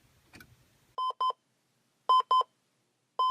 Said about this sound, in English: From the blaring of an alarm